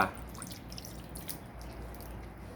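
Fish sauce pouring into a Thai raw beef dish (soi ju), a soft steady liquid trickle with faint drips, close and quiet, no voices.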